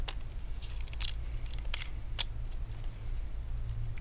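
Cables being unplugged from the motherboard of a Dell P75F laptop during a teardown, giving a few sharp, brief plastic clicks and snaps spread across the stretch over a low steady hum, with no talking.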